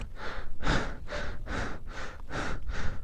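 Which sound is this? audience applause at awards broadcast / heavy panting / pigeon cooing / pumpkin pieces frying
heavy panting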